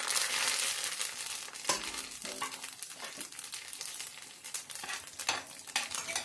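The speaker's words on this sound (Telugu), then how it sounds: "ఆవాలు జీలకర్ర మినపప్పు ఎండుమిరగాలు వెల్లుల్లిపాయలు శనగపప్పు కరివేపాకు ఆయిల్ వేసేసుకోవాలి" Mustard seeds, cumin, urad dal, chana dal, dried red chilies, garlic and curry leaves frying in hot oil for a coconut ivy gourd fry, a steady close sizzle with crackling pops and stirring scrapes throughout, no talking.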